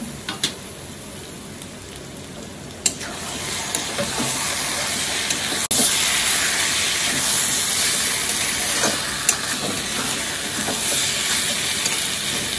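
Cut potatoes for a chicken and potato curry cook in a pan with a steady, fairly loud hiss and sizzle that swells about halfway through, broken by occasional light clicks and no talking.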